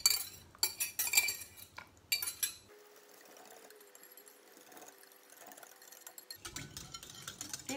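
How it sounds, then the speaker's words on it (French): Gelatin cream being stirred into a mascarpone and sugar mixture in a bowl: bursts of clinking utensil scrapes against the bowl, a quieter stretch of soft liquid movement, then more stirring clatter toward the end. "je vais pouvoir la déverser dans la préparation mascarpone et sucre"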